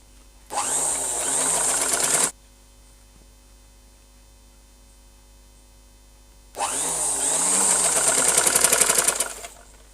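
A sewing machine stitches a sleeve onto a long frock in two bursts of steady, loud whirring, each lasting about two seconds, with a quiet hum in between.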